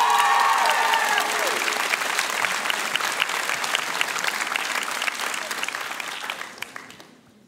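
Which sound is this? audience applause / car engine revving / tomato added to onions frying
audience applause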